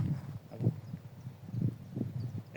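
Pony hooves clip-clopping at a steady walking pace, soft and fairly close, with evenly spaced dull thuds.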